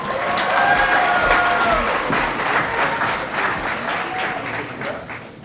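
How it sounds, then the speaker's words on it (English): A full room claps loudly for newly promoted staff at an employee recognition and awards ceremony, the dense applause holding strong before tapering off, with a faint voice underneath. "Please give a round of applause for our 105 newly promoted staff in 2023"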